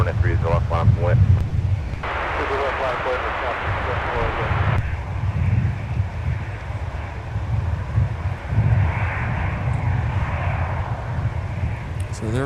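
Sun Country Airlines airplane taxiing in winter at Minneapolis–Saint Paul airport, a low engine rumble and wind noise running under someone talking, with radio chatter in bursts.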